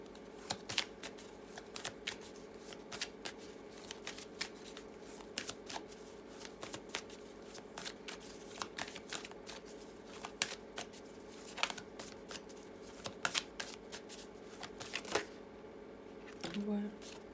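A tarot deck is shuffled close by in a quiet room, with repeated soft riffling clicks and card flutters in irregular bursts throughout and a faint low hum underneath.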